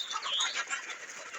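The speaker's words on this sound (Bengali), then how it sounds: "আমার এখানে দেশি মুরগিও আছে ওই পাশে।" Desi chickens clucking softly on a farm, a few short bird calls over a steady faint background with no talk.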